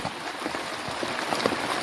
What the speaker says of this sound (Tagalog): Kahit may ulan.